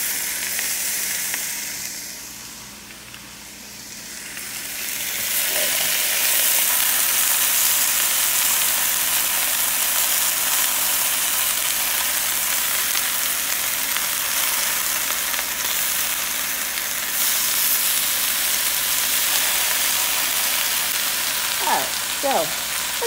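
Smoked turkey bacon spread out in a pan sizzles loudly and steadily, the frying hiss building after a few seconds and holding strong, with a couple of faint clinks near the end.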